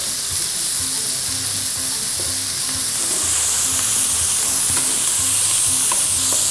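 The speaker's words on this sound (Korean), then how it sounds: "새우젓이 기름에 살짝 튀겨지면 요거 향이 또 특이해요" Salted shrimp sizzling and frying in hot oil in a pan, a steady bright crackle with occasional stirring scrapes, close and continuous throughout, no voices.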